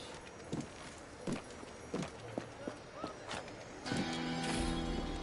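Hooves clip-clop in a steady series of knocks, then a louder whinny-like burst takes over near the end, with a hushed background; horse sounds in Assassin's Creed 4 Black Flag.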